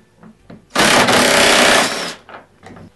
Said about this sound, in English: Now we will remove the basket retainer hardware with a 10 millimeter socket.